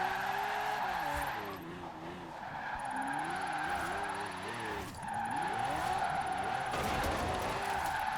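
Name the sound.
Lamborghini drifting and spinning out in Forza Horizon 4 video game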